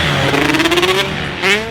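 A Pro Circuit-built GasGas MC150 two-stroke motocross engine revs loudly and close, its pitch climbing and wavering through quick throttle blips before dipping and rising again.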